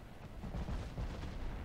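Heavy battleship 18-inch guns fire in the naval video game Ultimate Admiral Dreadnoughts, a dense, rumbling low-end roar of overlapping booms that keeps going with no pause.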